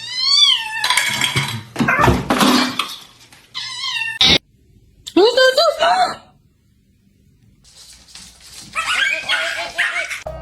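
A kitten meows and cries in several rising, wailing calls close up, with a dog yipping between them and a voice talking in places.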